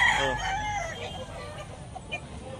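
A yellow-legged grey Hatch gamecock rooster crows once, close and loud at the start, its call trailing off into background clucking and outdoor ambience.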